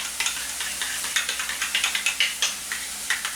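Pork patties frying in a pan, a steady sizzle with a run of quick, sharp crackles and pops.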